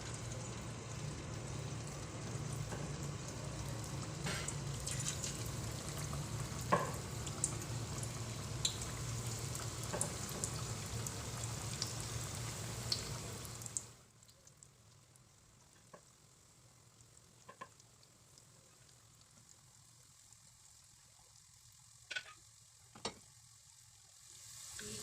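Chicken tenders fry in hot oil with a steady, close crackling sizzle for about half the clip. The sizzle then drops to a much quieter bubbling with occasional pops.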